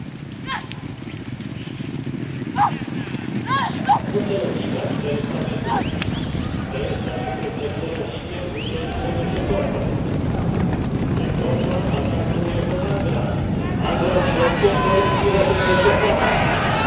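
Racehorses gallop through a horse race, with a steady, dense rumble of hooves and crowd noise building over about seventeen seconds beneath a voice talking throughout.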